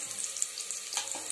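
Onions sauté in oil in a pan for tomato rice, a steady close hiss and crackle of frying with a couple of slightly louder bursts.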